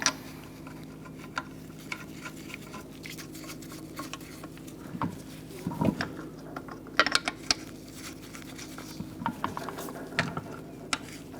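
21mm socket on a ratchet tightening lug nuts on a 2005-2010 Chrysler 300 front wheel: soft, quick ratcheting clicks in irregular bursts against a low steady hum, close and fairly quiet.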